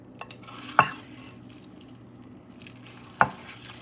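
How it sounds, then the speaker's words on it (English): Thick, pasty spicy noodles stirred in a pot, quiet shuffling with two distinct clacks of a utensil against the pot about two seconds apart, close and otherwise hushed. "It's like really hard to stir"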